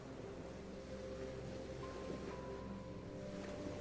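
Steady ocean surf rolling in a continuous broadband wash, soft and even with no distinct breaks, heard alone without voices.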